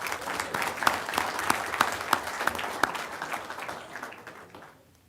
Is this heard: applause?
yes